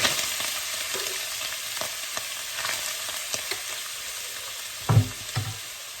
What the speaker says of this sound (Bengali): যে কিমাগুলো সিদ্ধ করছি সেগুলি এখন দিয়ে দিব এই চুলার মধ্যে